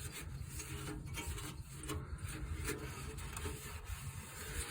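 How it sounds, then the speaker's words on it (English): Cloth or paper towel rubbing and wiping spilled engine oil under a car during an oil filter change, a steady close rasping scrub with no pauses. "I'm just wiping up all of this oil"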